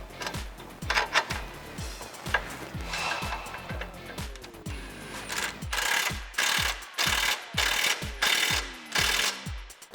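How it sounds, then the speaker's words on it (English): A ratchet with a 16mm socket tightens the upper shock bolts on a Jeep Wrangler JK during a FOX 2.0 shock install, giving a long run of close, loud ratcheting clicks in steady strokes that turn into harder, spaced bursts toward the end. "we can tighten these upper bolts down with a 16mm."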